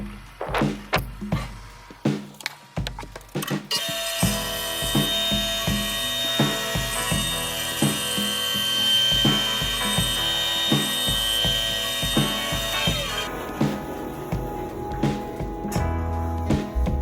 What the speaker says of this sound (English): Cut us a couple pieces out of the bandsaw.